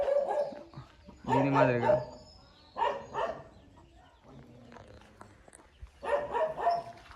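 Large dogs bark in short, loud bursts near a small chicken coop at Besa Gowda Fort near Madanapalle, mixed with close conversational talk.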